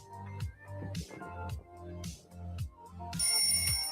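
A bright bell dings near the end, ringing out clearly over a bouncy, rhythmic musical backing that plays throughout.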